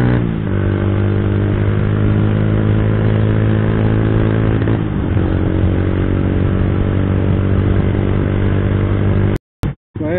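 Motorcycle engine at a petrol station revving hard and steadily, a loud close throaty drone with a slight dip and rise midway, cutting off abruptly near the end, no voices.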